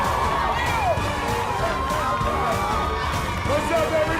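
A crowd roars and cheers wildly as Will Smith appears up close behind a curtain at a surprise fan meeting, a dense, continuous wash of shouting voices with scattered whoops rising above it.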